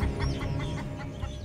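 A chicken, prey for a python in the Australian wild, clucks and squawks loudly and close by in agitated, continuous calls.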